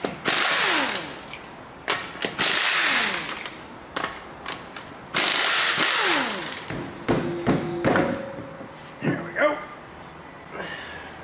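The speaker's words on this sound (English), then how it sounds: "if you have an impact gun, we'll make short work of these" An impact gun spins lug nuts off the front wheel of a 2001-2005 Honda Civic in three loud, rattling bursts, each winding down with a falling whine, followed by lighter clanks and handling noises.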